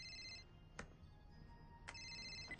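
A phone rings in two electronic bursts separated by a short pause, faint and alone in a quiet room.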